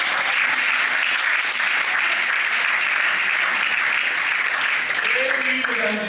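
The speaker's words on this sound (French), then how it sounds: "Acclamez quand même pour le chef de l'État." Steady, dense audience applause at a French-language eloquence contest semi-final, loud and continuous throughout with no break, crowd clapping filling the room.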